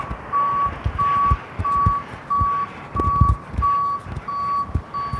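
A city tow truck backs up on a hot Arizona street, its reversing alarm sounding loud, steady beeps at an even pace, about nine in a row, over low engine rumble and traffic noise.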